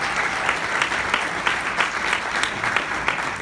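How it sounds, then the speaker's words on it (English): Round of applause for council staff at a civic gathering in Austin, steady crowd clapping with a brisk, even texture, no talk over it. "Give them a round of applause"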